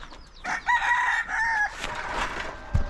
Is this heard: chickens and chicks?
yes